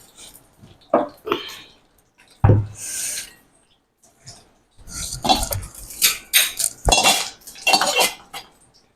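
Steamed baati lifted one by one out of a cooking pot, giving irregular metallic clinks and scrapes of a spoon against the vessel, close by with quiet gaps between.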